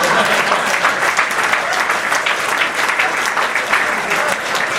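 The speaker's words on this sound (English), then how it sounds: "This is where y'all supposed to clap" Audience applause at a Hall of Fame induction speech, a dense, steady wash of many hands clapping for about five seconds, loud and close throughout with no talk over it.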